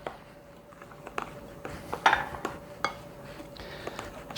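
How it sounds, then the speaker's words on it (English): A spoon scrapes and clinks against a bowl in repeated strokes while stirring pumpkin bread batter spiced with cinnamon, close and moderately loud. "Then I'm going to stir all this together."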